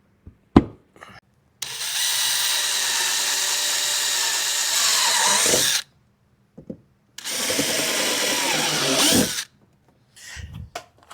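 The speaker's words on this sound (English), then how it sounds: "We got all of our holes drilled." A power drill bores holes to mount overfenders on a 2025 Yamaha RMAX4 1000, running in two long, loud whining bursts with brief clicks and knocks between and after them.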